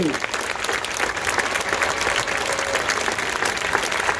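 A crowd claps and cheers loudly at a high school marching band awards ceremony honouring the Class A bands, a dense wash of applause holding steady throughout with faint voices mixed in.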